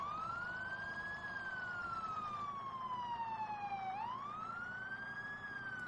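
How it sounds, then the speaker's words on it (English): A wailing fire engine siren in Farming Simulator 17 sweeps slowly up and down in pitch, steady and loud, with a low engine rumble beneath and no voices. "We'll get our lights and sirens going."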